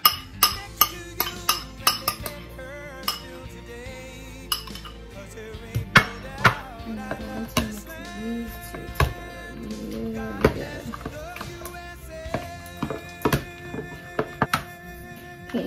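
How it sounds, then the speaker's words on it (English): Melted butter and cream cheese are stirred together in a bowl, with a steady run of sharp utensil clinks and knocks against the bowl, close by, over soft background music. "So now in this bowl, you're going to have the butter and the cream cheese."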